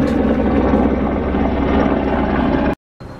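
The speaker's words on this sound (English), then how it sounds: "Helicopter interrupts play." A helicopter passes overhead, a loud, continuous rotor rumble filling the air outdoors before cutting off abruptly.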